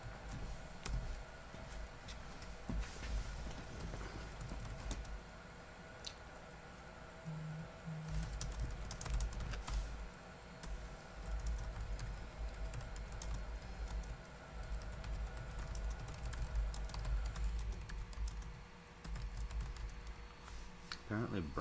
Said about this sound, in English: Apparently Brian is typing.